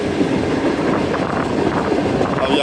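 The Pak Business Express train, 34 DN of Pakistan Railways, runs on a new railway line on a foggy day, with a loud, close, continuous rumble and wheel clatter and no voices.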